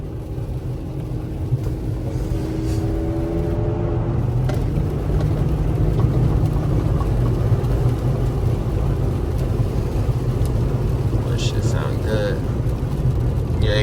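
A steady, rumbling engine of a tuned Infiniti G37 sedan idles and revs throughout, with a deep low drone and occasional exhaust crackles and pops, while people talk over it.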